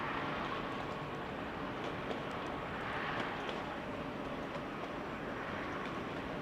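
A Pilatus PC-24 business jet lands on runway 24 at Amsterdam Schiphol Airport, giving a steady broadband engine roar at mid distance that holds level throughout.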